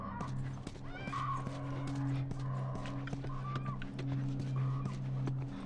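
A horse whinnies several times over steady clopping hooves and a low continuous drone, with the neighs rising and falling in short bursts, in the video game The Last of Us on PS3.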